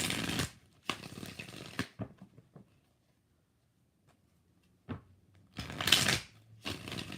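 Tarot cards are riffled and shuffled in several quick, crisp bursts, separated by a stretch of near silence.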